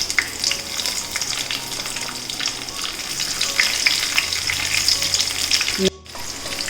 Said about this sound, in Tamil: இந்த கடலைப்பருப்பும் உளுந்தம்பருப்பும் நல்லா அந்த வாசனை வர வரைக்கும் இந்த நெய்யில் நம்ம நல்லா வதக்கிடலாம்